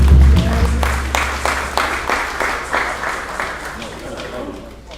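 Applause rings out for a presenter from International Carnival UK at a funeral service, with a low hum underneath and the clapping gradually fading across the few seconds.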